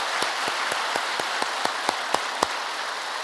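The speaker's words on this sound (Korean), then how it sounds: "한 번 더 우리 박수로 환영할까요?" A church congregation claps in welcome to newcomers, about ten evenly spaced, sharp claps in a slow unison rhythm over a faint hiss, no talk.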